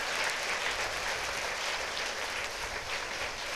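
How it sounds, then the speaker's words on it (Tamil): Sustained audience applause at a Tamil patimandram debate stage event, dense steady clapping from a large crowd throughout, with no talk over it. "ஒரு பெரிய கைத்தட்டு கொடுத்து வாழ்த்து."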